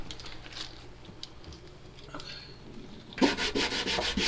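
Sandpaper rubbed briskly over a repair patch on a sinking boat's hull, a steady rasping scrub that starts faint and becomes louder and denser in the last second, with no talk.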